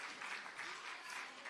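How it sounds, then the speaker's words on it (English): Audience applause for the drummers who led a libation ceremony at a Malcolm X commemoration, a dense, steady wash of clapping from a crowd filling the room, loud and continuous without a break. "Let's give them another round of applause for leading our libation ceremony."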